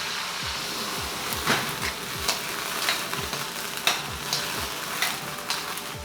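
Japanese cooking wine sizzles and crackles loudly as its alcohol burns off in a hot wok, a continuous close hiss pulsing with regular low scraping stirs roughly every half second, no voices.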